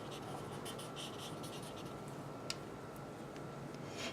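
Marker pens scratch softly across paper while rendering kitchen materials and finishes, a faint continuous scribbling texture with light rhythmic strokes and one sharper tap, alone without talk.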